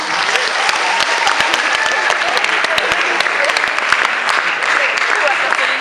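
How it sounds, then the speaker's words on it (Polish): Audience at a school farewell ceremony for third-grade students applauding, close and loud sustained clapping with sharp individual claps standing out throughout. "Brawa dla was, trzecioklasiści!"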